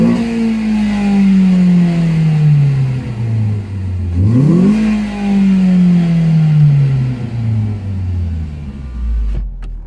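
Revving engine of a 2013 Ford Focus SE hatchback fitted with a cold air intake, rising and falling through two long sweeps, loud and close with no talking.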